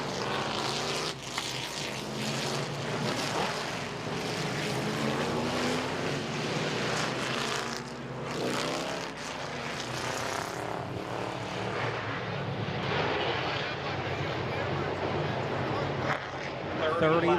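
Street stock race cars roll around Midvale Speedway on the wave lap of the Ohio Invitational Fall Classic, a steady broad engine roar that swells and dips, with crowd or announcer chatter mixed underneath.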